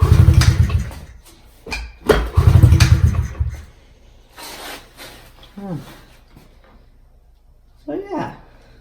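A pit bike engine cranks and sputters in short rough bursts as it tries to start after a carburetor cleaning, failing to catch, with a person talking between attempts.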